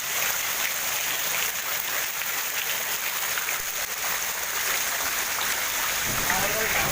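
Heavy rain pours steadily onto a street flooded with standing water, a dense, constant hiss of drops that stays loud and unbroken throughout, with no voices.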